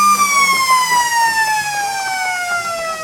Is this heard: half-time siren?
yes